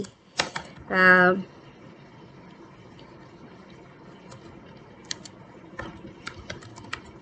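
Short bursts of computer keyboard typing, a quick cluster of keystrokes near the start and scattered clicks later, fairly close and moderately loud against a quiet room with faint background noise.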